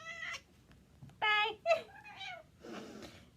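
An angry cat lets out several loud, drawn-out meows and yowls in separate bursts of varying pitch, close by, with quiet pauses between the cries.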